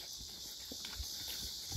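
A broke bay gelding walks along a trail, its hooves clopping in a slow, uneven rhythm, soft and close under a bright steady hiss of outdoor insects.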